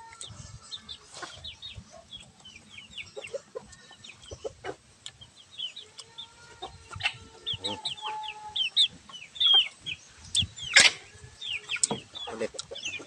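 Native chickens cluck in a steady stream of short, sharp calls, several birds overlapping near and far, with occasional louder squawks and a busy outdoor bustle beneath.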